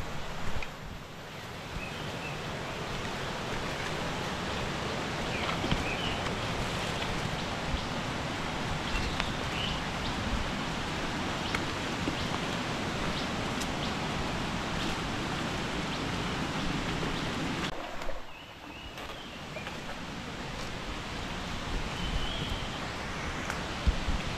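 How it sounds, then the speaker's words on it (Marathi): Heavy rain falls steadily on a Konkan village, making a dense, unbroken hiss that stays even throughout, with only a brief dip near the end. "पाऊस बघा किती भरलो, भरपूर पाऊस भरलेलो."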